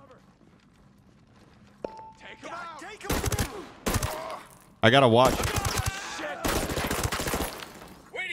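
Bursts of gunfire in the video game Ghost Recon Breakpoint during a night-time thermal-scope firefight, sharp volleys in several clusters with a player talking over them.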